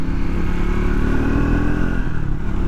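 A Triumph Speed 400 motorcycle engine running loud and close with a steady, throbbing note while shifting gears, a slight change in tone near the end.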